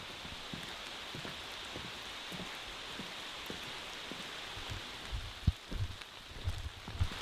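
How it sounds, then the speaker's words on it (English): Steady rain falling on a wooded hiking trail near Pictured Rocks, an even hiss of drops with faint patters and rustles close by and no talking. "Wow, it's raining pretty hard."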